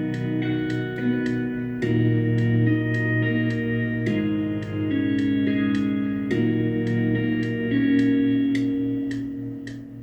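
A song's closing section plays with its pitch raised slightly for emotional effect. Sustained layered chords hold under repeated bright plucked notes that recur at a steady pulse, loud and full throughout, with no voices.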